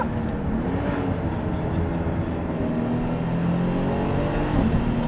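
A Nissan Skyline GT-R with a sequential shifter and a turbo that spools late drones steadily from inside the cabin, its engine note shifting in pitch as revs climb and fall over several seconds.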